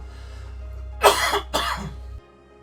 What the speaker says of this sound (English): And then he has a coughing fit.